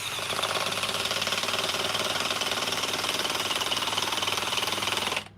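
A DeWalt power tool runs continuously at close range, a steady dense mechanical buzz with rapid rhythmic pulsing, holding level for about five seconds before cutting off abruptly.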